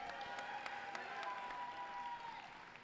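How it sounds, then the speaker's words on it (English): Audience applause fills the clip, a steady wash of many hands clapping at moderate distance, with a sustained tone running underneath before fading slightly at the end. "Let's give Packie a round of applause again."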